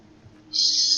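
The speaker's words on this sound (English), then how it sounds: "Stupid birds." A shrill, steady bird call in the video game Alan Wake starts abruptly halfway through and holds loud and close over a quiet, low ambient hum, with no talking.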